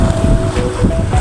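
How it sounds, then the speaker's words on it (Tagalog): Strong wind at sea buffets a fishing boat casting poppers for snapper: a loud, steady roar of wind noise and rushing water fills the whole stretch, with no talking. "Malakas hangin."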